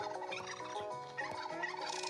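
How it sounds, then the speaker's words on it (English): A turkey gobbles in a farm video game, a rapid warbling burst at a moderate distance, fairly quiet and heard alone. "Turkey. Turkeys come from Thanksgiving."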